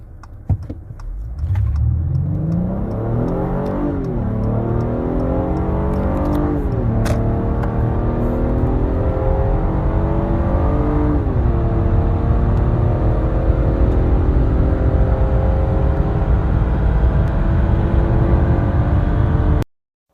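A car accelerates flat out from a standstill at full throttle without brake boosting, engine revving up steadily through several gear changes, loud and close for about twenty seconds before cutting off abruptly.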